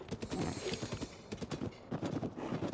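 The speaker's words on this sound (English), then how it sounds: "I may have just killed that poor pigeon by running it down with my horse." Horse hooves galloping in The Legend of Zelda: Tears of the Kingdom, a quick, steady clip-clop rhythm of repeated hoofbeats at moderate volume with no talking.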